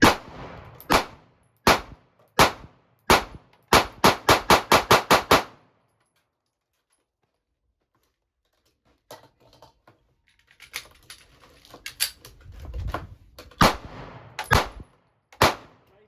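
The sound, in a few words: handgun shots fired at cardboard target, Sig Sauer P365 or Springfield Hellcat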